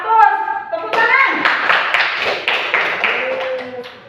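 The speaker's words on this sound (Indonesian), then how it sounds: "Tepuk tangan." Schoolchildren in a primary school classroom clap together in a patterned rhythm of sharp, close claps, following a brief spoken lead-in, with a voice mixed in.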